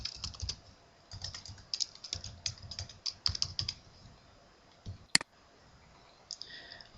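Bursts of quick clicky keystrokes on a computer keyboard entering a username and password, separated by short pauses, with a single sharp click near the end.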